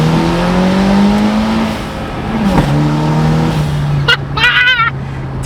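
An Acura RDX turbo with an ATLP catback exhaust revs loud and close, the engine note rising and dropping through shifts, then a turbo whistle and a short pop near the end.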